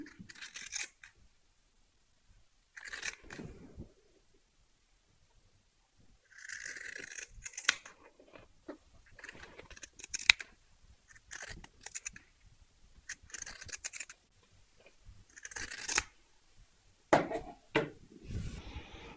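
Scissors cut natural cotton fabric in short, crisp snips that come in separate clusters with quiet gaps, close up, faint handling noise between them.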